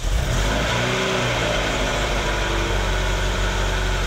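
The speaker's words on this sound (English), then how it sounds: "So if I start the engine" A Ferrari engine with K-Jetronic mechanical fuel injection cranks and catches, then revs up and settles into a steady, close, rumbling run with no talking.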